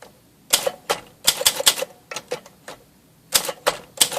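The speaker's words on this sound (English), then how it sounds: "And we'll get a close-up of the typing again." An Olympia SM-3 vintage manual typewriter, repaired and reconditioned, types up close in irregular bursts of crisp, sharp key strikes, with short pauses between clusters of clacks.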